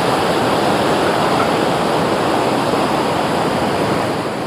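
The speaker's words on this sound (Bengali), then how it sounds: "আর পাশ দিয়ে চলেছে দেখো একটা সুন্দর ঝর্ণা" A waterfall runs beside a walking path near Kamakhya in Guwahati, Assam, making a loud, steady, close rushing roar that holds unbroken throughout with no voices.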